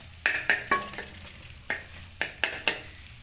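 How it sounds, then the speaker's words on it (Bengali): Egg and onion omelette frying in a pan, quiet background sizzle punctuated by a run of sharp spatula scrapes and taps against the pan in uneven rhythm. "ডিমটা ভাজা হয়ে গেছে।"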